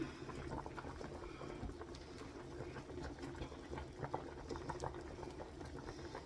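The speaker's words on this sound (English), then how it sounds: "Potatoes are boiling away." Water bubbles at a steady rolling boil in a pot of potatoes, faint and continuous, with small pops and splashes rising from the pot.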